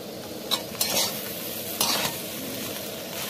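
Eggs dropped into a hot frying pan, a steady sizzle with a few sharp scraping stirs of a utensil against the pan.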